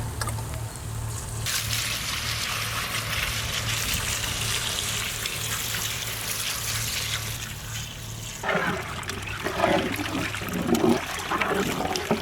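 Water pours steadily into a cooking pot of mutton chops with spices for several seconds, then gives way to a bubbling, sizzling simmer.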